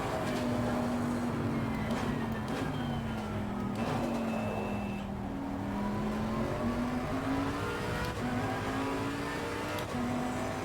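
Race cars in the sim racing game Assetto Corsa Competizione, played in VR with a motion rig, give a continuous engine whine that rises and falls with shifts and throttle under light tire and road noise.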